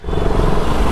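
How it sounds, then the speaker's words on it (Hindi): A motorbike engine roars loud and close for a brief moment, a dense steady rumble with no voices. "चुरा के आया बाइक, ये निखिल की बाइक है।"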